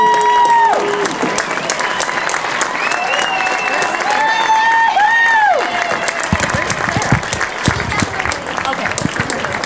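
A stadium crowd at a high school football game applauds Hall of Honor inductees at halftime, a steady wash of clapping and crowd noise with voices mixed in and some whistle-like tones drifting over it for the full stretch.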